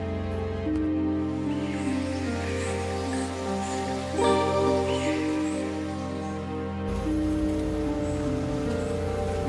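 Steady rain falling on a surface, a dense continuous patter with a low hum underneath, no voices.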